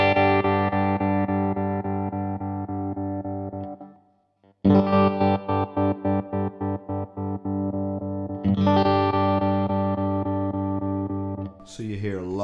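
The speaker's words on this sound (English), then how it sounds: "So you hear longer guitar bits, shorter silent bits." Electric guitar through an Electro-Harmonix Super Pulsar stereo tap tremolo set to a longer duty cycle: sustained chords chopped into a rapid on-off pulse with long sounding bits and short silent gaps. The playing is loud and close, with a brief pause between phrases.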